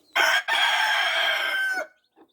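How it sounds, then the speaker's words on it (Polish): A rooster crows once, loud and close, a long drawn-out call with a brief break near the start, followed by silence. "Tak kogut."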